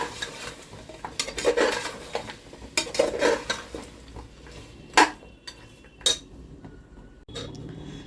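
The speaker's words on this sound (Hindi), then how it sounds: "अदरक और लहसुन का पेस्ट डालने के बाद थोड़ी देर हम इसको इसके साथ भून लेंगे, अदरक लहसुन के पेस्ट के साथ।" Mutton fried in a pot with ginger-garlic paste for a Lucknowi mutton dish, giving close scraping and clinking stirring strokes against the metal pot over a faint sizzle, in irregular bursts with short pauses and no talk.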